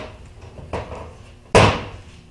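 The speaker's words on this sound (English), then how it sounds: "The drawers work smoothly." Wooden drawers of an old Kennedy stack slide and bump shut, making two close knocking slides with the second louder and sharper, with no talking.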